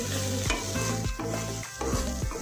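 Egg with drumstick flowers and onion being stirred in a pan over medium flame, a steady close sizzle broken by repeated scraping strokes of the spatula, with no talking.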